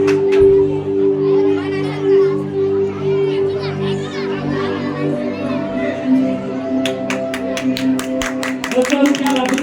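Speech at a donation announcement gives way to a burst of rhythmic clapping from a gathered crowd near the end, with voices continuing underneath.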